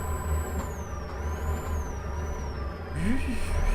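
A heavy truck driven in Euro Truck Simulator 2 gives off a high, steady whistle that drifts up and down in pitch over a low engine rumble. The whistle shifts near the end as the engine grows louder.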